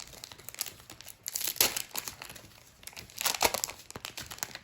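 Foil wrapper crinkles and tears as someone opens a pack of 1988 Star Baseball Hall of Fame trading cards, in uneven bursts of crackling close to the mic with no talking.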